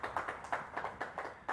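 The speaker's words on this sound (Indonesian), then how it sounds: "Tepuk tangan untuk keluarga besar Samudra." A studio audience claps for a family of guests on a television talk show, a quiet run of distinct, roughly rhythmic hand claps, fairly few hands, with no talk over them.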